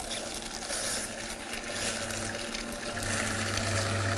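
A juicer presses ginger and turmeric, giving a steady grinding, whirring motor hum with a wet pressing texture that deepens partway through, continuous and fairly close with no talking.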